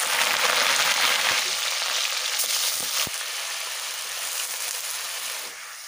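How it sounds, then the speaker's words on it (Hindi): Onion hits very hot oil over a high flame and fries with a loud, close, hissing sizzle that stays strong throughout and eases slightly toward the end, with a couple of brief clicks. "तो मैं हल्का प्याज डालूंगी"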